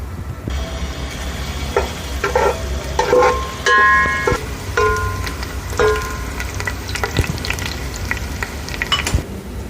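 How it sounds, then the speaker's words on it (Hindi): Sliced onions hit half a cup of hot oil with split green chillies, setting off a loud, steady sizzle and crackle with scattered clinks and scrapes of a utensil against the pan. "और इसमें हम प्याज डाल देंगे"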